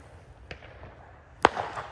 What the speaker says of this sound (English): There's more fireworks.